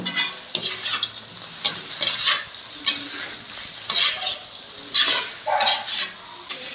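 Fried chicken gets stirred into dragon chicken sauce in a pan, with repeated scraping and clinking spatula strokes in an uneven rhythm over a close, moderate sizzle.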